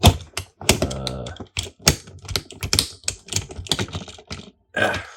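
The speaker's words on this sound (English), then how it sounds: "you tab these two side pieces in, and then you get your gun" Plastic pieces of a Transformers Studio Series Megatron toy being tabbed together, a close run of rapid clicks, taps and small knocks in irregular bursts, no talking.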